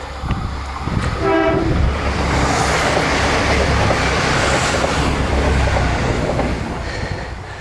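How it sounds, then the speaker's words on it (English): A train rattles past nearby, loud and steady, with a brief horn blast at the start and continuous clattering wheels and rumble. "You can hear the rattle of the train coming."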